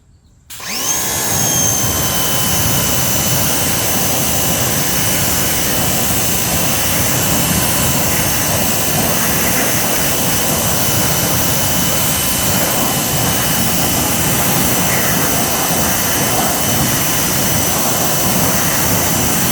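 A strong water spray rinses iron remover and wheel cleaner off a car wheel, starting abruptly and then holding as a loud, constant hissing rush close to the microphone for the rest of the clip.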